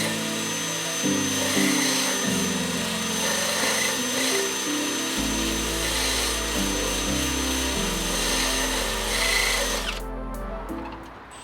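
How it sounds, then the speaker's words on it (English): A power-driven wire wheel scours paint off a car's lower radiator bracket, a loud continuous whirring grind whose pitch shifts as pressure changes, stopping abruptly near the end. "I started this by taking a wire wheel to the paint to reveal where the spot welds were."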